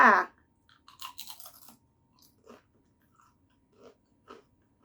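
Crunchy chewing of a crispy Thai butter snack, close to the mic: a loud first bite followed by a burst of crackling chews, then softer, scattered crunches at intervals.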